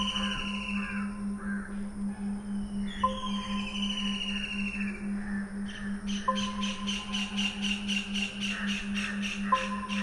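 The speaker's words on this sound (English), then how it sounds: "There's the birds," Birdcalls woven into a meditative music track, heard as repeated caw-like and chirping calls layered over a steady sustained drone and pulsing tones, with no voice present.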